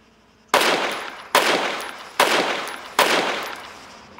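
Four heavy shots from a KSVK bullpup anti-tank rifle in Arma 3, each a loud sharp crack with a long decaying tail, fired at a slow, even pace.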